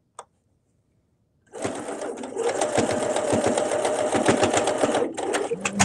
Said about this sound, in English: And sew it on the rest of the way.